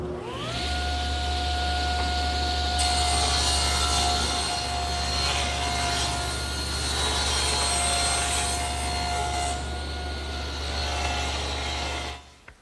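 A table saw rips along the edge of wood stock during rough milling for a rustic coffee table. A loud, steady motor whine and blade cutting noise runs without a break for about twelve seconds, with no talking, then drops off abruptly at the end.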